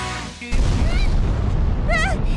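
A cartoon explosion from Teen Titans Go! bursts in suddenly with a loud, booming blast that trails into a sustained rumbling roar, while brief squealing, voice-like sounds rise over it near the end.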